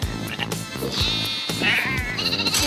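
Sheep bleat repeatedly close by on a farm during a round-up, several overlapping wavering calls mixed with movement and general bustle, loud and continuous.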